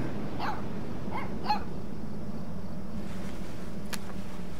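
A puppy in the Life Is Strange 2 video game gives a few short, near yips and barks in the first seconds, over a steady low background hum, then falls quiet apart from one faint late chirp.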